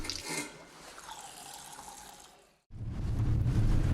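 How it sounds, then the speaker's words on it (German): Water runs from a tap into storage containers before a trek across the Salar de Uyuni, a steady rushing fill that stops briefly, then resumes louder and fuller. "Wir füllen unsere Wasserspeicher mit der vorher berechneten Menge."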